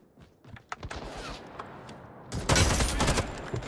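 Bursts of gunfire in a team-battle shooter video game crackle in short volleys, starting sparse and faint and ending in a dense, louder barrage.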